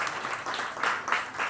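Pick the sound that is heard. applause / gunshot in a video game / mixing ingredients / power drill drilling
applause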